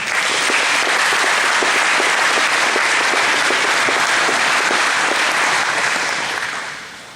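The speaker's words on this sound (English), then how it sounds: "So give yourselves a round of applause as well." Audience at a 2016 SBA commencement ceremony bursts into sustained, dense applause, steady and loud for several seconds before tapering off at the end.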